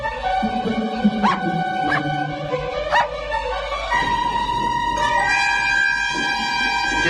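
A smart little dog gives a few short, sharp barks, then whimpers and yips. The sounds are close and carry over a sustained musical background.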